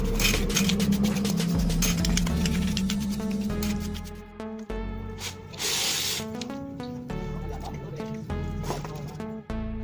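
Carburetor cleaner sprayed onto a dirty motorcycle carburetor that floods, seeps and starts poorly, with a hissing spray burst standing out over steady, loud background music.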